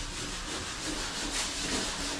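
Steady abrasive rubbing of sandpaper on wood during home renovation work on a mini kitchen, a continuous close scratchy hiss with slight rhythmic surges and no talking.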